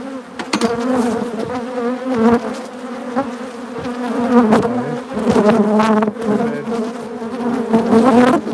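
Honey bees buzzing loudly around an opened hive during an inspection, a dense, steady close-up drone with individual bees swelling and fading past the listener.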